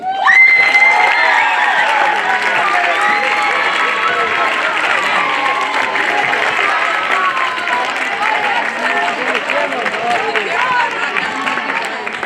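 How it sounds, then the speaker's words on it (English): Students at a school history class drum show give a big round of applause to welcome a drum group. The clapping is loud and sustained, mixed with cheering and children's shouts, and people can be heard talking throughout. "can we welcome with a big round of applause"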